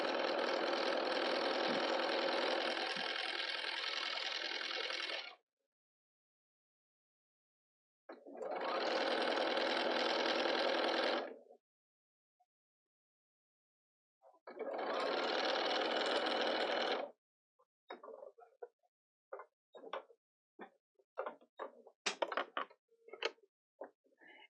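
A sewing machine stitching a half-inch seam on fabric for a market bag runs in three loud, steady bursts of several seconds each with pauses between, then gives way to scattered clicks and light handling sounds.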